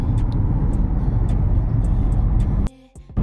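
A car driving on a road between Ottawa and Gatineau, a steady loud rumble of engine and tyre noise filling most of the clip, then dropping away abruptly near the end, with a few clicks and light knocks.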